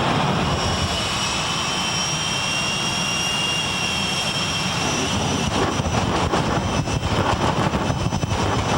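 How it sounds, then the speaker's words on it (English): Two jet funny cars, a 2000 and a 1999 Monte Carlo, race at Castrol Raceway in Edmonton. Their constant, overpowering jet roar thickens into a rougher, crackling rumble near the end. "we're just going to listen into the sheer raw power of these two Jet Funny cars."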